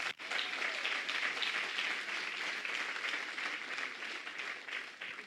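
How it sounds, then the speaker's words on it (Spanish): A church congregation bursts into applause, dense steady clapping from many hands that starts abruptly and continues evenly at moderate distance. "Dale un aplauso a Jesús."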